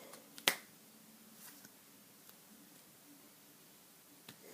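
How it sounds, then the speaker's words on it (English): A single sharp finger snap rings out early in a card trick performance, followed by near quiet with faint rustling and one soft tap near the end. "So when I go and snap my fingers again"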